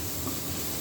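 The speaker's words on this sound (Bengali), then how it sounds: "আলু এবং বেগুনটা আমার ভাজা প্রায় হয়ে আসছে।" Potatoes and eggplant with green chilies frying in a pan for a loitta dried-fish curry, giving a steady, close sizzle that holds evenly for under a second with no voices.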